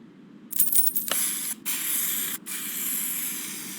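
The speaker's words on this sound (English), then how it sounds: "So we will spray it factory color." A paint spray gun in Car Mechanic Simulator 2021 applies factory-color paint to a car, hissing in sharp sustained bursts separated by two short pauses, close and clear with no talking.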